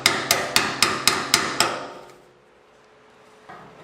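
A hammer strikes a car fuel tank to knock it into place on an old muscle car, seven sharp, evenly spaced metallic whacks close by, followed by quiet and one faint knock.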